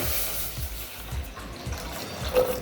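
Half milk, half water mixture poured into a heated pan for making modak dough, a steady liquid splashing and bubbling that runs throughout, fairly loud and close, with no talk.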